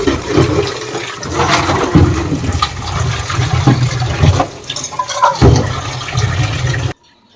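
Loud, steady gushing water rinsing out a household trash bucket at a kitchen sink, running continuously for several seconds with splashy surges, then cutting off abruptly.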